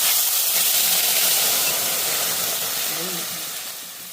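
Water hits a hot spice tempering of asafoetida in a pot and bursts into a loud, broad steamy hiss that slowly fades over a few seconds, close and without speech.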